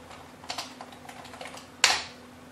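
A command typed on a computer keyboard for a firmware upload: a few soft, scattered keystrokes followed by one sharper, louder key press near the end, close and quiet over a faint hum.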